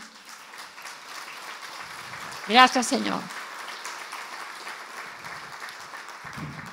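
A church congregation applauds after a sermon, making a steady, diffuse wash of clapping that sounds somewhat distant. A voice speaks briefly partway through.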